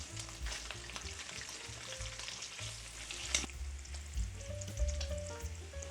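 Bacon fries in a cast iron pan with a soft, steady sizzle and occasional light pops and clinks, fairly quiet and up close, with no voices.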